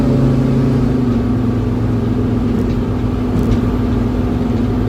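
A Sprinter-type van cruising at highway speed, around 60 to 70 mph, gives a steady, loud cabin drone of engine and road noise with constant low rumble throughout.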